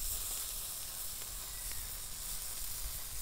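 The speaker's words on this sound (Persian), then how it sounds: "میبینید چه جلز ولزی میکنه." Dolma kebab on skewers sizzles over a grill, a faint steady crackling hiss with small pops as fat drips, heard up close with no talking.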